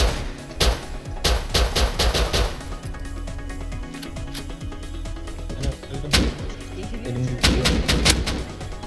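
Rapid bursts of gunfire in the Rust video game, a high-intensity firefight with repeated close sharp shots in clusters and volleys, some isolated single cracks between, with no talk over it.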